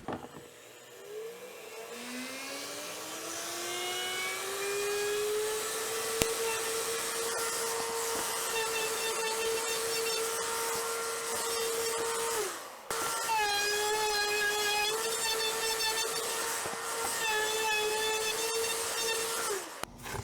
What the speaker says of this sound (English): So I've got my 1/4 inch round over bit installed in my router table, and we're just going to round these out